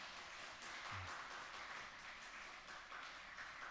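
Church congregation applauding as a women's praise team walks out, faint continuous clapping heard from a distance throughout, steady and even.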